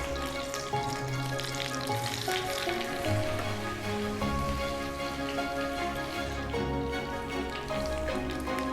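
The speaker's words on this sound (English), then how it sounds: "This is going to fry up in here, let's say about 3 minutes on each side until it's golden" Chicken piccata cutlets frying in a pan, a dense, steady sizzle and crackle like light rain, continuous and fairly quiet without talking.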